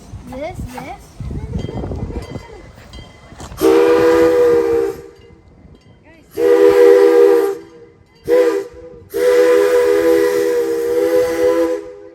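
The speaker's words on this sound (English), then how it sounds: "That was a steam train." A steam train at the Canadian Railway Museum (Exporail) sounds its whistle in four loud, close blasts: two long, one short, then a final long one. People talk before the first blast.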